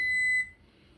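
A kitchen timer gives a short, bright electronic beep, close and clear, which cuts off after a fraction of a second and leaves quiet room tone.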